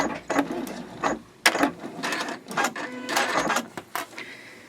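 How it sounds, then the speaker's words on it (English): A domestic sewing machine stitches a boxy fabric bag, running in short bursts of rapid mechanical clatter with brief pauses between, including a back-and-forth backstitch, close and fairly loud, with no voices. "So I will backstitch at that spot."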